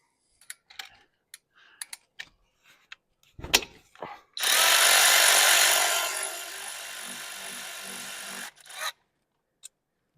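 A 14 mm bolt on a Prius front brake caliper is loosened: scattered light clicks and taps, then a loud, steady grinding burst lasting about four seconds, and a few final knocks.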